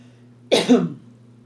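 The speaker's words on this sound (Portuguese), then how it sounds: "Agora tosse, que eu comi coco. Aí tá aquele pigarrinho do coco." One sharp cough followed immediately by a short throat clear, close and fairly soft against a quiet background hum.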